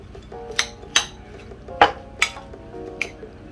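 Salad being mixed with mayonnaise in a bowl, a spoon clinking and knocking against the dish in several sharp, irregular strikes over a soft background hum.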